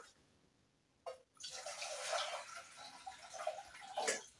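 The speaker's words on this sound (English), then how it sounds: "Let me put water." Water is poured into a vessel for boiling eggs after a brief clunk, a gurgling, splashing stream that continues with small bubbling variations.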